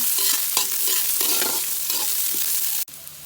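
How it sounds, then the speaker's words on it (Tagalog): Ginger, onion and garlic sauté in a hot pan until brown, giving a loud continuous sizzle with stirring scrapes that stops abruptly near the end. "Pagkatsa po natin hanggang sa mag-brown."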